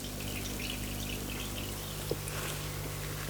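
Water keeps draining out of an engine part of a BMW X1 123d during a timing chain repair, a steady trickle and pour over a low background hum.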